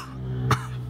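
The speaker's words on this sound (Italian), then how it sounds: "Dio, questa tosse è brutta." A single close cough, short and sharp, from a man, standing out alone over a quiet indoor background hum.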